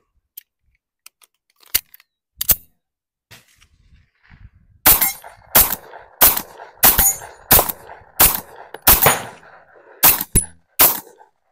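A 2024 Tisas 1911 Carry B9R DS 9mm pistol fires a rapid run of about nine sharp, loud shots at close range, preceded by a few faint clicks and handling knocks.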